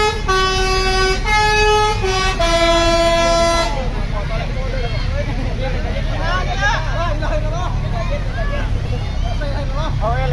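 A bus telolet horn at Saung Galendo roadside stop in Ciamis blares a loud melodic sequence of stepped tones, then cuts off, leaving engine rumble and an excited crowd chattering and shouting nearby.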